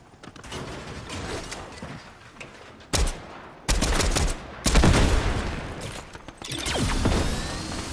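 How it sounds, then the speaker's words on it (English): NPC gunfire in Fortnite hammers a player's build with a rapid, continuous rattle of shots, broken by several louder bursts and impacts, all close and loud. "I think Bender starts shooting my build again"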